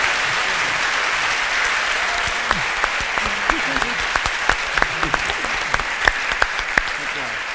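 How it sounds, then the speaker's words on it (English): Audience at a World Science Festival panel on the human brain applauding steadily, a dense sustained wash of clapping with a few louder individual claps standing out near the end. "Harris and Murray Shanahan and Greg Wheeler, give them a big round of applause"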